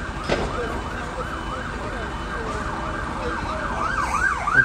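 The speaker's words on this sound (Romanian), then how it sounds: "Încă mașină de pompieri." A fire engine's wailing emergency siren rises and falls repeatedly over background traffic noise, fairly distant and steady.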